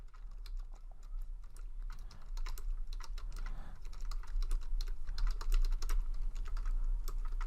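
Fingers type on a computer keyboard in a quick, uneven stream of light key clicks, close and fairly quiet, with no one talking.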